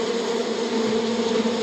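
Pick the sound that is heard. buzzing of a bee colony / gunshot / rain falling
buzzing of a bee colony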